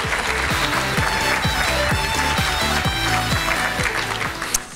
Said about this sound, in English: Let's give all these scholarship recipients a big round of applause